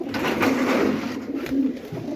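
Several pigeons offered at a Punjabi pigeon sale coo steadily nearby, a low rolling murmur of overlapping calls with soft pulses, and no speech.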